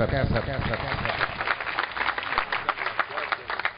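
An audience at a poetry recital claps to welcome poet Zubair Kaiser, dense continuous applause, fairly close and steady, with some voices mixed in.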